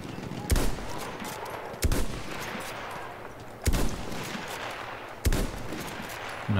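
Battlefield 1 gunfire in a capture battle on the Achi Baba map, four sharp, loud shots spaced about a second or more apart over a continuous wash of distant battle noise.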